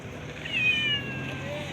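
A single cat meow, rising then trailing off, fairly close and clear over a faint room murmur.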